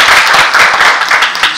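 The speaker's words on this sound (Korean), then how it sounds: "다시 한번 친구와 책임과 함께 박수 부탁드리겠습니다" Audience applause at a citizens' briefing on the Yeoju Vision 2035 long-term development plan: dense, steady clapping from a crowd, loud and close, sustained throughout without pause.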